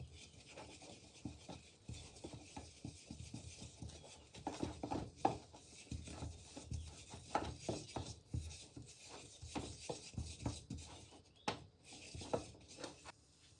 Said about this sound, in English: add 6 grams of plain flour and stir and cook out for around a minute